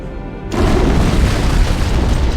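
An antimatter charge detonates aboard a ship in Halo: Combat Evolved, a sudden loud boom after a brief quiet moment, then a sustained, dense roar of rumbling debris and fire that fills the space.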